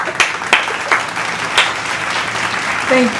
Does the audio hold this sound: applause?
yes